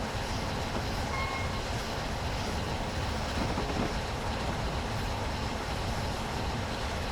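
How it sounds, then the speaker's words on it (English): A train rumbles past in a railway simulator on the London to Brighton line, a steady, broad roaring wash of wheel and track noise that stays loud and even throughout, with no voices. "You saw a train passing by."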